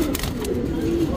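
A Rekdhar female pigeon coos softly and close by in a short low murmur.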